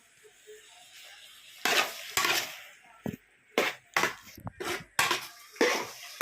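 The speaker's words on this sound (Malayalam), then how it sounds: "ചക്കപ്പഴം വഴറ്റി വെക്കുക" Ripe varikka jackfruit is sautéed in a pan, with repeated scraping, stirring and clinking of a spoon against the pan. The strokes come in uneven bursts over a low sizzle, close and fairly loud, and there is no talking.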